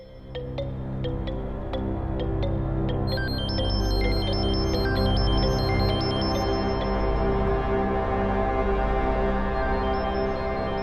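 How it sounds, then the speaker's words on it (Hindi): An electronic ringtone melody chimes repeatedly over a loud, constant background rumble. "फोन की आवाज आ रही है"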